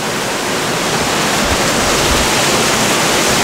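A waterfall in Bali roars continuously, a loud, dense rush of crashing water filling the air with no break and no voices.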